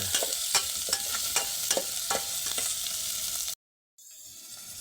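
Garlic, onion and ginger sautéing in a pan: a steady close sizzle punctuated by regular, sharp stirring strokes, then a brief dropout before a quieter sizzle resumes.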